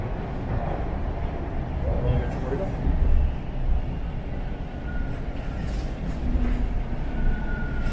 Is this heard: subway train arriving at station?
yes